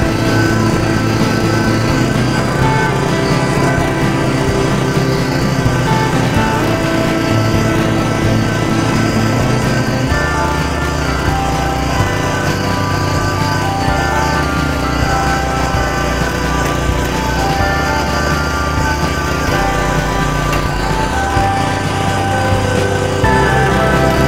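A UGRA walk-behind tractor (motoblock) engine runs steadily in second gear, a loud, continuous mechanical drone with a low rumble that shifts in pitch partway through, with no voices.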